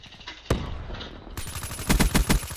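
Rapid bursts of automatic gunfire in a first-person shooter game, a sharp single shot followed by a dense rattling volley of closely spaced shots, loud and near.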